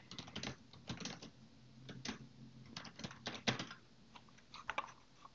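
Close keystrokes on a computer keyboard come in uneven clusters of taps with short gaps, fairly quiet and with no voice over them.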